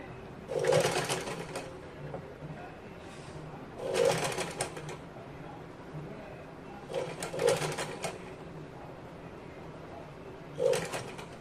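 Sewing machine stitching a cotton frock for a one-year-old baby, running in four separate bursts of about a second each with quiet pauses between, close and clear with no talking.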